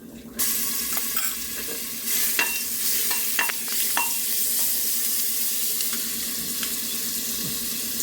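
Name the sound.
stirring ginger garlic paste frying in a pan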